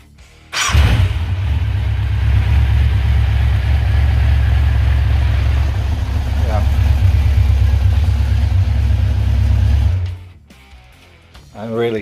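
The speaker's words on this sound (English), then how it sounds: "let's connect this and see if bike will start" A Yamaha FZX motorcycle engine fires up after a starter replacement and runs at a steady, loud idle for about nine seconds with a faint blip partway, then cuts off abruptly.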